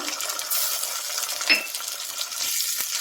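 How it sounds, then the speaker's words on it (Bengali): Ginger-garlic paste stirred into onions frying in oil, a continuous sizzle with scraping stir strokes and a faint metallic clink midway, no talk. "পেঁয়াজটা ভাজা হয়ে গেছে, এবার দিয়ে দিচ্ছি আদা রসুন বাটা"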